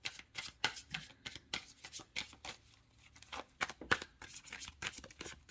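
Tarot cards being shuffled by hand, close and crisp, in quick irregular bursts of riffling and sliding with short pauses between them.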